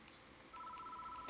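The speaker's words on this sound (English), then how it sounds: "Alright, the phone rings." A telephone rings in a horror adventure game, a steady electronic tone starting abruptly and holding for under a second, faint and alone.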